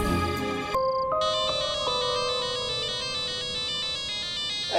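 A mobile phone ringtone plays a bright repeating electronic melody, steady and fairly loud, sustained over nearly five seconds with no talking.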